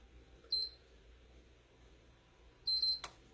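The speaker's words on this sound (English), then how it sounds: "As soon as it double beeps, you're going to take your finger off it." A PlayStation 3 console gives a quiet double beep as it powers back on, two short high tones roughly two seconds apart, with a click right after the second and faint room hiss between them.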